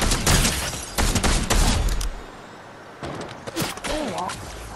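Rapid bursts of video game gunfire at a robot enemy crackle loudly in the first two seconds, then return in shorter volleys after a quiet gap, with voices talking over the later shots.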